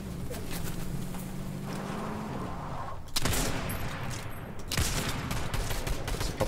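Rapid bursts of gunfire in the video game Fortnite, a dense rattling fusillade that keeps going throughout and gets louder midway, with game ambience underneath and no talk.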